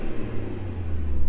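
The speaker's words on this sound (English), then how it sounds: "Nice little burbles, crackles. It sounds really, really good." A 2024 Mercedes-AMG GLE 53 SUV in Sport Plus idles with a deep, steady exhaust rumble that swells slightly toward the end, heard close with a door open.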